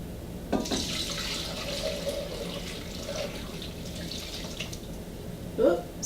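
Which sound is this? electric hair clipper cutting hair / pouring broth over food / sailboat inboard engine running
pouring broth over food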